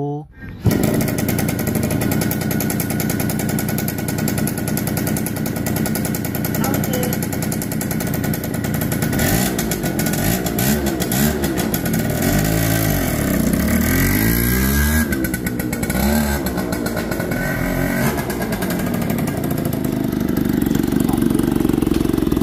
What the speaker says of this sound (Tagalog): yung madinig yung tunog ng makina nito ni Project Lolo L2.